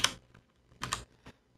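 Computer keys are tapped in a few quick, close bursts with short pauses between them, a faint, isolated clatter while a LaTeX document is being written.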